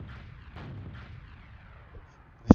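A rocket fired at the floor in the game Team Fortress 2 gives a few muffled booms followed by a sharp, loud blast near the end, with no talking.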